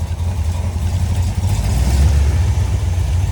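Loud, steady low rumble of an engine idling somewhat low after a copper oil pressure line installation, continuous and close with slight surges and no talk.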